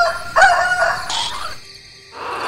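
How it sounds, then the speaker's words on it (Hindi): Rooster crowing at dawn, a short strained call that rises and then cuts off into quiet before a faint rasp returns. "बांग दी"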